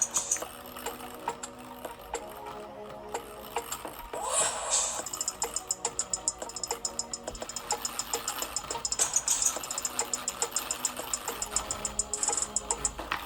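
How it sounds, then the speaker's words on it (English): An electric mixer works through chocolate chip muffin batter, starting with faint clatter and then settling into a rapid, even pulsing whir that stays fairly quiet and steady with no talking. "I'm gonna go ahead and use the mixer to mix this in."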